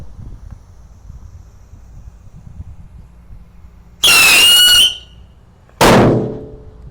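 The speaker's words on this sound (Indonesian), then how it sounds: "terima kasih sudah mengikuti eksperimen menyalakan mercon di dalam ruangan" Firecracker lit indoors inside a house: after quiet room noise, a shrill squealing hiss rises abruptly for about a second, then a sharp, loud crackling burst fades quickly.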